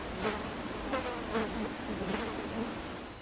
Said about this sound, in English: In the next video titled Daisy and Friends, the sound of flies can be heard buzzing.